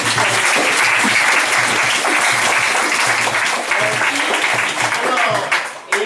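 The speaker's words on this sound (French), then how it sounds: "avec vos mains, je vous invite à applaudir Dieu pour le remercier" Sustained applause from a church congregation at a Mass fills the space, steady and loud, fading slightly near the end.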